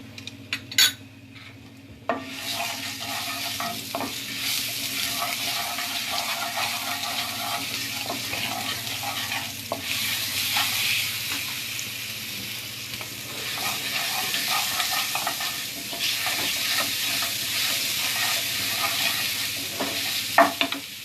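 Ginger-garlic paste hits roasted cumin in hot oil, a brief clatter giving way to a loud, steady sizzle with spoon scrapes and metal-on-pan stirring throughout, no voices.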